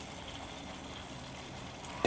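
Tamarind water mixed with chili and turmeric goes into a hot pan for dried-fish curry, making a steady, close sizzle that runs evenly throughout, with a small bump near the end.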